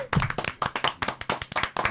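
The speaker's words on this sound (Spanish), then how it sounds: "Un aplauso" A small audience claps for a pastor on a church talk show, about a dozen quick, sharp hand claps in an uneven rhythm, fairly close and moderately loud.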